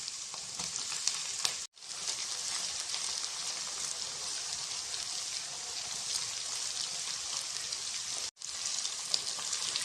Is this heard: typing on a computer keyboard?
no